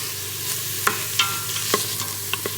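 Onions sautéing in an Instant Pot while a spoon stirs them, giving a soft steady sizzle with several sharp scraping clicks against the pot, close and alone.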